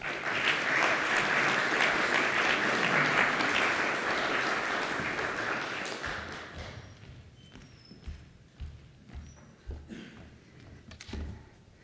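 An audience at an MFA graduate poetry reading claps warmly for about six seconds, the applause thinning out into a few scattered claps, footsteps and soft thumps as the reader comes to the stage.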